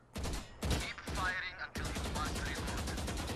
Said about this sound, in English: use the focus continuously shoot at the target in front of you